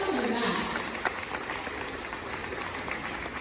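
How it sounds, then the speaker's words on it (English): Audience applause at a middle school graduation ceremony, a wide wash of clapping from a large crowd, fairly even and continuous with faint voices beneath. "Let's really clap it up for that."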